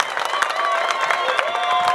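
Applause and cheering from a crowd gathered at Feri fish market in Ilala, a steady wash of clapping with scattered shouts throughout.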